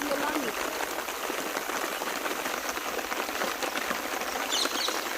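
Steady rain falls on water and surroundings at a canal where a net is pulled for shrimp, a dense even patter filling the whole stretch, with faint speech in the background.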